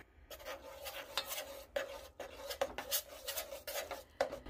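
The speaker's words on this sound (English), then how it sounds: "All right, stir this up." Powdered cheese for boxed mac and cheese being stirred, heard as a run of close, quiet scraping and tapping strokes of a utensil against a pot or bowl, without talk.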